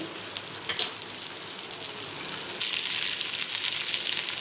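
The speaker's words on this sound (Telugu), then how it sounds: "మీడియం ఫ్లేమ్లో పెట్టుకొని ఆయిల్ కొంచెం చివర యాడ్ చేసి మీడియం ఫ్లేమ్లో పెట్టుకోండి." Semiya tomato dosa cooking in oil on a pan over medium flame, a soft hiss with a couple of brief clicks early on, then a louder, brighter sizzle from the middle of the clip to the end.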